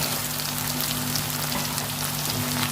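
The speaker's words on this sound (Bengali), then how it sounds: "পেঁয়াজটা হালকা করে ভেজে নিয়েছি, আদা রসুনের পেস্টটা দিয়ে দেবো" Onions with ginger garlic paste sizzling in a pan, a steady dense crackle like light rain, close and even throughout with a low hum underneath.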